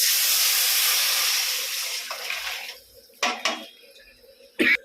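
Sizzling hiss of tempering poured into a pot of rasam, fading over a few seconds, followed by a couple of sharp metallic clinks of utensils.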